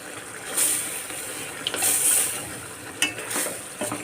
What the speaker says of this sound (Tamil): அப்புறம் கொஞ்சம் கலக்கி விட்டுக்குருவோம்